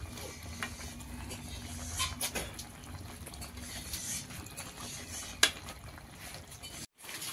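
Spice masala with chicken gizzard, liver and skin being stirred in a pan, soft continuous scraping and light sizzling with a few sharper clinks of the spatula against the pan, close and without talk.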